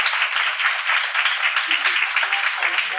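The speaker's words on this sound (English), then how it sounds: "And please, a round of applause for Pablo." Applause from a keynote conference audience, a dense steady patter of many hands clapping at moderate volume, with a few faint voices mixed in near the end.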